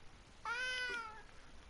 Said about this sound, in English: Scoot so close to me just to meow near me.